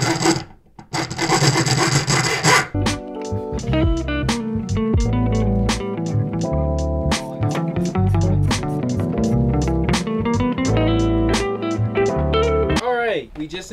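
Hacksaw cutting metal during a turbo swap on an MK1 VW Rabbit turbodiesel, a close, loud run of rhythmic back-and-forth rasping strokes after a brief initial scrape, continuing for most of the clip.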